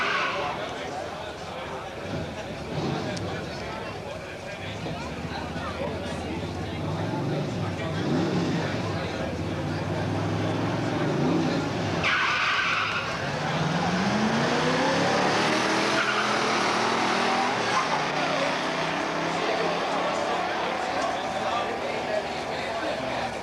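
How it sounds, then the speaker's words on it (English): A 1970 AMX drag car with a 360 engine and four-speed launches at a Beech Bend drag strip, loud engine roar climbing through gear changes with tire squeal, under an announcer's commentary. "in the left-hand lane is car number 14, Rick Smith, driving a 70 AMX, 360 and a 4-speed"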